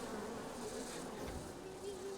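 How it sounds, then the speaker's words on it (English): Bees buzz in the video game Evil Genius 2, a faint, continuous insect drone that holds steady throughout with no voices over it. "those guys get all distracted by bees"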